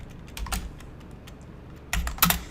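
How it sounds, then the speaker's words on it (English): Fingers type on a computer keyboard in two quick bursts of key clicks, separated by a short pause, close and clear with no voices. "I'm going to type in input."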